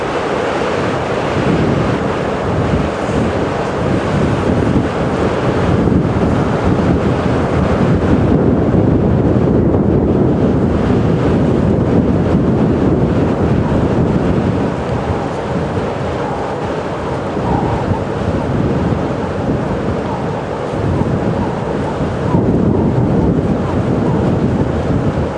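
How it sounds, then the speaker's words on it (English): Wind roars steadily across the microphone during a safari drive at Djuma Game Reserve, loud buffeting gusts that rise and ease without pause. "That's because of this windy weather."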